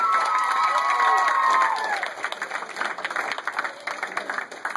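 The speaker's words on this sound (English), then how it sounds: "Give Joe and everybody a nice round of applause" An audience at a high school graduation party event bursts into loud applause with cheering and shouts, strongest at first, then tapering into scattered clapping.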